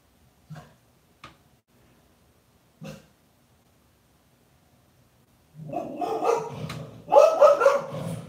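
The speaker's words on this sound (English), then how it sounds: "Somebody's probably walking by with a dog." An outdoor dog gives three short, sharp barks spaced apart, then breaks into a rapid, louder run of barking and yipping near the end, with no talk over it.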